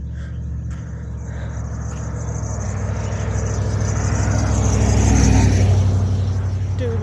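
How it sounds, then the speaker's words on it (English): Trucks rumble past on a road, a low engine roar that swells and peaks before easing slightly, with a person talking faintly underneath. "dude, why are trucks so loud?"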